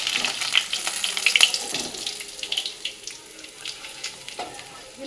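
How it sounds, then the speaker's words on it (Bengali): Fish fries in hot oil in a home kitchen with a close, crackling sizzle and spitting pops that rise and fall, loudest in the first half. "চলো মাছ ভাজাটা নামিয়ে নিই"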